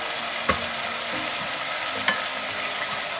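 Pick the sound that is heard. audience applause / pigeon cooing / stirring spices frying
stirring spices frying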